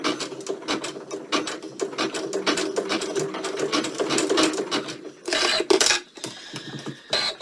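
A sewing machine zigzag stitching over coiled rope, running in fast rapid needle bursts with brief pauses and a short stop-start near the end.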